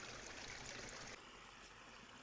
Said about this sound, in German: Wieder an einem schönen Bach, frische Luft, kann nicht besser laufen.